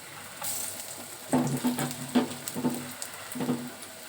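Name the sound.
lentil fritters (bora) frying in oil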